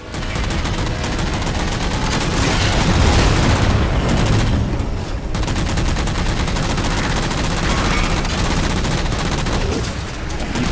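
Halo 4 Mantis mech unloading rockets and guns: dense, continuous barrage of rapid gunfire and booming blasts, loud and close, with a short dip before the shooting resumes.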